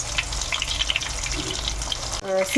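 Chicken nuggets deep frying in oil produce a continuous bubbling, watery sizzle that cuts off abruptly near the end, moderately loud with no one speaking.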